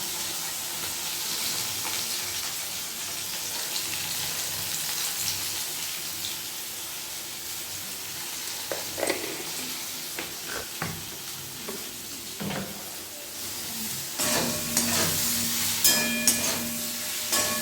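Spices for a fish curry sizzle and are stirred in a pan, a soft steady frying hiss with occasional scraping and clinking that grows busier toward the end, no talk.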